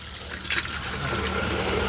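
Water pours from a village tap into containers, a steady close gushing and trickling flow that runs the whole time, with people talking faintly in the background.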